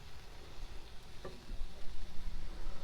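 Pork belly frying with Northern Thai curry paste over a camp stove outdoors, a steady close sizzle that grows slightly louder toward the end, with no talking.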